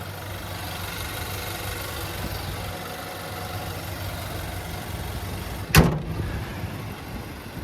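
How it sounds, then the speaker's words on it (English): A 2023 Nissan Titan XD with the Endurance V8 idles with a steady low hum and a faint rumble, punctuated late by a short sharp thunk like the hood closing. "look underneath the hood. There's that Endurance V8"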